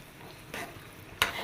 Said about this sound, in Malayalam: കുറച്ചിങ്ങനെ നെയ്യ് ഒഴിച്ച് കൊടുക്കുക. കുറച്ചുകൂടെ ഒന്ന് ഇളക്കി കൊടുക്കുക.